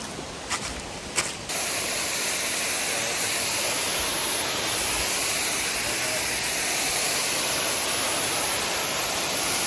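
A rainforest creek rushes in a steady, close wash of broadband water noise after a couple of brief knocks at the start, running continuously without voices.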